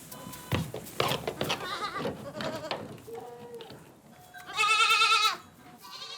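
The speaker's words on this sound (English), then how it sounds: "Billeted in a nursery corner, the young goats call out to their mothers." Young goats in a nursery corner bleat and call out for their mothers, with several overlapping wavering cries from close by and a louder, sustained bleat near the end. No one talks.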